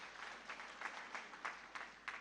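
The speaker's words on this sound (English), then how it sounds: "Let's clap for that." Audience clapping at a university graduation ceremony in Kenya, a steady wash of applause with a few louder bursts, fairly distant and moderately loud.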